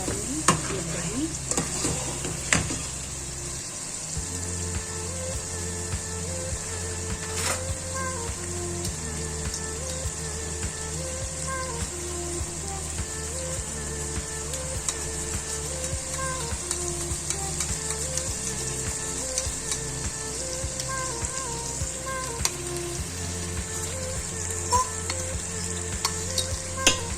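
Beef and okra fry in a pot with a steady, close sizzle and repeated scraping stirs, while soft background music plays underneath.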